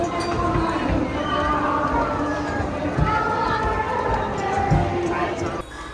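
A dense, noisy crowd of devotees fills Chinchpokli Chintamani Ganesh temple in Mumbai during Ganesh Utsav, a steady loud wash of overlapping voices and movement with nearby people talking.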